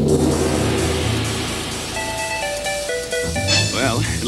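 A car engine revs and pulls away in an animated scene, its rumble loud at first and fading over a couple of seconds before bright musical tones take over.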